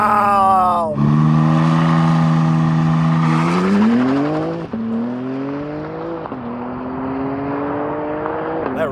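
A BMW launches hard from a launch control start. The engine note climbs loud and close, with sharp breaks at each gear change as it keeps pulling.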